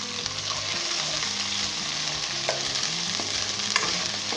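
Ginger garlic paste sizzles steadily in a hot pan over medium heat for Rawalpindi-style chickpea curry, with repeated scraping stirs of a spoon cutting through the continuous frying crackle.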